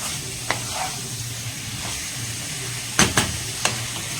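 Chicken with tomato and onion stir-fried over a high flame for a meat feast, a steady sizzle under a few sharp scrapes and clanks of a spoon against the pan, close and moderately loud, with no talking.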